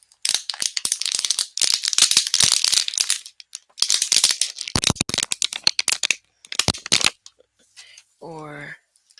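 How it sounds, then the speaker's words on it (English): Crinkly crumpling and rustling bursts fill most of the stretch, close and fairly loud, stopping and starting, with a brief voice at the end. "people would probably get a kick out of me crumpling something like"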